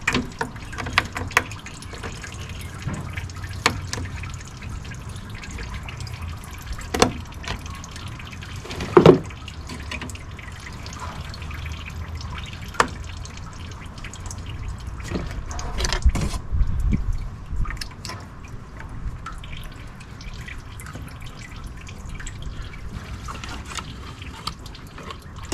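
Coolant draining and dripping from the disconnected upper radiator hose of a 2014 Toyota Sienna, a steady trickle and splatter with scattered clinks and handling noises.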